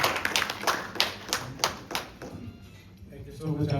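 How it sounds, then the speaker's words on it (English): Scattered clapping at a graduation gathering for a graduate's father, a few loose claps close by that thin out and fade, with a voice starting near the end. "Have a big round of applause for him."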